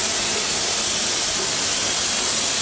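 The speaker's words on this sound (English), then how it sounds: "any excess steam out of the steam dome to escape through the top. It is a very loud sound, and a very long sound as well." A steam locomotive on a Disney park railroad vents excess steam through the top of its steam dome, giving a loud, steady, broadband hiss that continues unbroken and close by.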